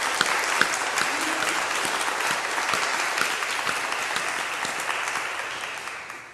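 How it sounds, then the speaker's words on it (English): Steady audience applause at an evening conversation event, dense continuous clapping from a crowd filling the room, fading slightly toward the end with no voices over it. "I would like it if we could all just express our gratitude to those folks by a round of applause."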